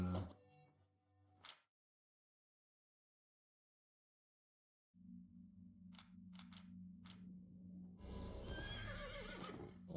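Horse whinnies in Albion Online, with a neigh at the start, a pause of silence, then a low mechanical hum, several short clicking clip-clop sounds and a louder bright burst at the end.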